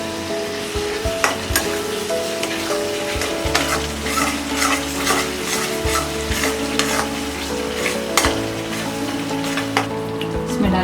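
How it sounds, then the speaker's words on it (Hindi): Curd being stirred into egg biryani in a hot pan, continuous close scraping and wet mixing with steady sizzling underneath and repeated sharp utensil strokes. "अब हम इसमें डालेंगे ये कर्ड, मिक्स कर देते हैं।"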